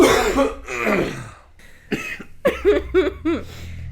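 Someone coughs in a harsh fit, first two long rasping coughs, then a series of short choppy hacks, close to the microphone.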